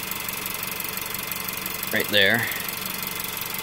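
A car engine idling, picked up through a cheap piezoelectric contact mic on the engine mount stud bolted to the block, gives a steady mechanical hum throughout while someone speaks briefly near the middle.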